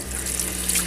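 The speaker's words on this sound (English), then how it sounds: "Some hot water hand washing for once." Hot water from a newly installed mini tank electric water heater runs from an RV faucet for hand washing, a steady close splashing rush with a faint underlying hum.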